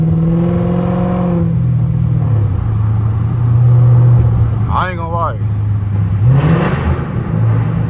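Loud Dodge Charger with an illegal SRT-style setup accelerating onto a highway at night, its low engine drone swelling and revving under steady road rumble while someone talks over it throughout.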